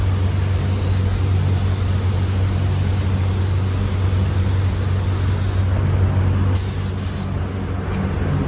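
Spray gun laying a third coat of waterborne paint on a Grand Marquis, a loud steady hiss of atomized air throughout that cuts back briefly near the end, with a low background hum.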